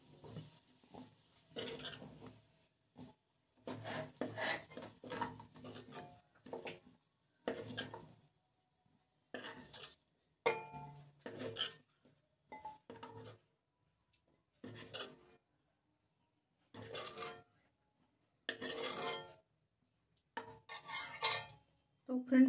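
Cooked water chestnuts are lifted out of a pot, with repeated metal spoon scrapes and clinks against the vessel in irregular bursts separated by short silences, close and fairly quiet.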